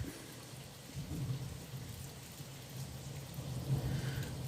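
Heavy, fast rain falls steadily with low rolling thunder rumbling underneath, a faint and distant-sounding storm with no voices.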